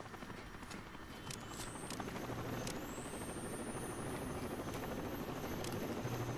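Helicopter rotor chop in the video game Rainbow Six Vegas 2, a steady low whirring drone held evenly throughout, with a couple of thin high whines passing over it and no one talking.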